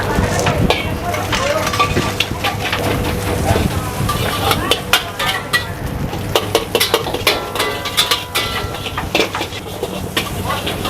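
Nasi goreng frying in a wok at a busy street food stall, continuous sizzling with rapid metallic scrapes and clanks of the spatula against the pan, loud and close, with people talking over it.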